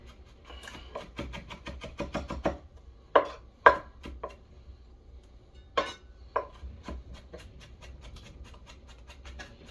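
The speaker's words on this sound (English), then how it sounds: "I'm going to try and mince this stuff up really, really fine." A knife chops habanero peppers on a cutting board in quick, close, irregular bursts of sharp taps, with a few louder knocks and short pauses between runs.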